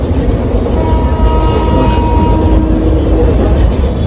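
A passenger train runs along the track, heard loud from inside the carriage as a continuous rumbling roar with a rattle and faint tonal whine, and no voices.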